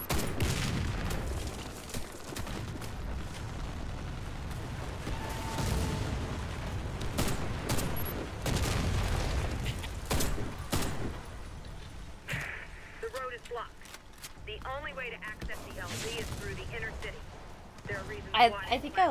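Gunfire and explosive booms in the Warface shooter game, dense bursts rolling through most of the stretch with heavy low rumble, thinning out near the end where game effects and a voice take over.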